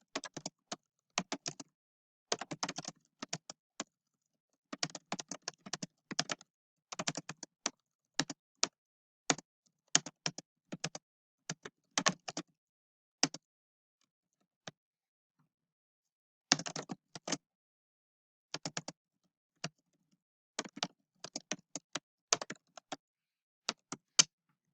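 Fingers type a comment on a computer keyboard, crisp close clicks coming in quick bursts separated by short pauses, isolated against near silence for a long stretch.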